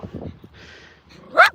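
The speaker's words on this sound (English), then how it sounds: "Don't you dare bark at me." A dog out on a wintry group walk gives a short, sharp yip near the end, preceded by quieter snuffling and whimpering sounds close by, with a voice murmuring faintly early on.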